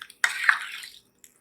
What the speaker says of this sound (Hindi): अब हम इसके अंदर डाल देंगे 2 कप के करीब पानी